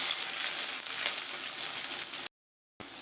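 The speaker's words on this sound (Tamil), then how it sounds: "ஃபஸ்ட்டு நம்ம பூண்டை ஃப்ரை பண்ணி எடுத்துக்கலாம்" Chopped garlic fries in hot oil, giving a bright, steady sizzle close up that cuts out abruptly for a moment near the end before resuming.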